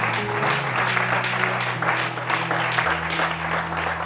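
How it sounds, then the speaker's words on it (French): A church congregation applauds loudly with continuous dense clapping, while a sustained music tone and a voice carry on underneath. "Acclame très fort pour toi-même."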